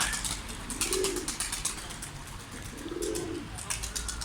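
Pigeons coo from a rooftop terrace, two soft low coos rising and fading about two seconds apart over steady outdoor background noise.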